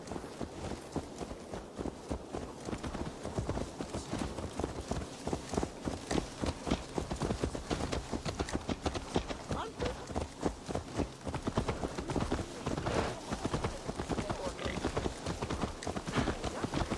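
Horse hooves clip-clopping steadily in a video game, a continuous rhythmic trot of hoofbeats heard alone for the whole stretch, fairly loud and close.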